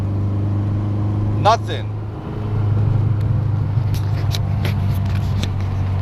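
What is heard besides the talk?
Peugeot 205 1.9 Rallye accelerating on test drive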